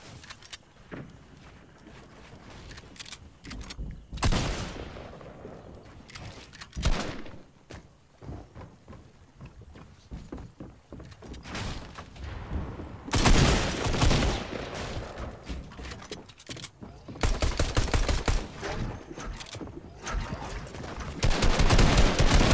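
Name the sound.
gunfire in a video game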